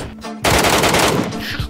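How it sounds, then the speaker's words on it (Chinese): Rapid automatic gunfire in a battle royale video game, a loud close burst of overlapping shots lasting over a second after a short quieter lead-in. "哎呦，有枪声"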